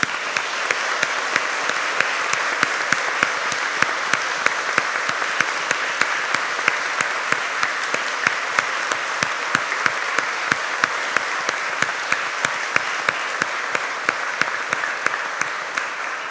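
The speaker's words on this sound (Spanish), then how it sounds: "Aplaudamos este logro." Sustained applause from a seated audience at a lawyers' swearing-in ceremony before the Supreme Court, steady and fairly loud clapping that continues evenly throughout with sharp individual claps standing out.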